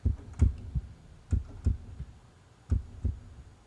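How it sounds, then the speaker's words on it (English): Low, thumping heartbeat in steady pairs, three double beats spaced about a second apart, muffled and close with quiet between them. "It's my heartbeat as I think about UFOs."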